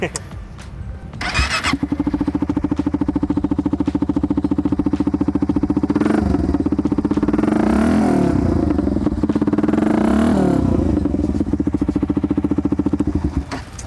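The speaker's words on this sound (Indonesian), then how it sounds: "Suara knalpot no brand ini nih" A Suzuki GSX-R150 motorcycle with an unbranded aftermarket exhaust cranks and fires up, then idles with a loud, throaty exhaust rumble that swells twice in revs before settling.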